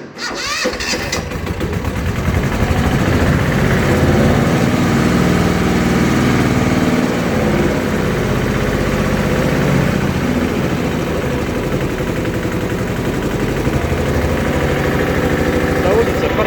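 A Yanmar YM-1500 Japanese rear-drive mini tractor's diesel engine cranks and catches, then settles into a loud, close, steady rattling idle that runs without a break.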